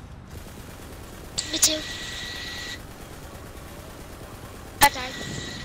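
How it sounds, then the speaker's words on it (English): Enemy gunfire in the Borderlands video game, a couple of short bursts of shots with a sustained electronic tone, moderately loud under brief player talk. "They keep shooting me."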